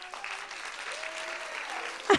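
An audience in the salle de l'Union in Céret claps loudly and steadily for a speaker arriving at a talk. The applause is dense and sustained, with a sharper burst near the end.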